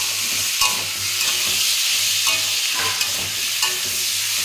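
Vegetables frying in a pan with cumin, ginger paste and green chillies, stirred now and then: a steady close sizzle broken by several scraping strokes of the spoon against the pan, with no voices.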